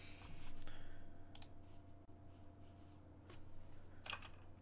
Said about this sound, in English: My keyboard is loud as fuck for some reason.